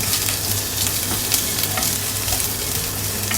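Fatty pork belly browning in its own rendered fat with no added oil, giving a loud, steady, close sizzle and spatter throughout, with light stirring noises mixed in.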